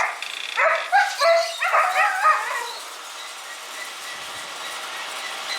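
Two huskies on a mountain in Koh Samui, fussing for treats with a quick burst of close, loud barks and yips that fade out after a few seconds into quiet background.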